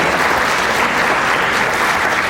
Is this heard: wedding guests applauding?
yes